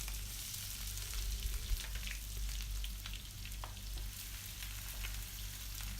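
Chopped onions frying in a pan for pepper chicken, a continuous bright sizzle with occasional stirring scrapes and small pops, close and fairly steady throughout with no talk.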